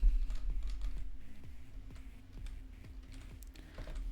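Steady clatter of computer keyboard keys as code is typed in a programming lesson, quick irregular keystrokes close up, with no talking.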